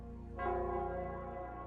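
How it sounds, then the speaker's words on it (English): A bell rings in the Nell Squares of the video game Wuthering Waves, a single struck tone swelling in and then sustaining with a soft, lingering hum. "It's the Nell Squares bell."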